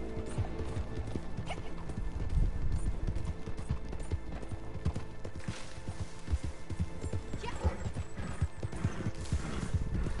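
Horse hooves clip-clop steadily at a slow walking pace in the video game Red Dead Redemption, with occasional creaks and a faint whinny, moderately close.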